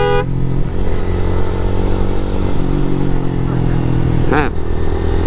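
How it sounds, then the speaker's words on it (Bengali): Motorcycles carrying riders up a mountain road at night, engines droning and revving steadily up close with wind rush and a passing rise in pitch near the end. "2 বাইক 3 জন। আর রাতের বেলা পাহাড়ি রোডে রাইড করতে ভালোই লাগতেছে"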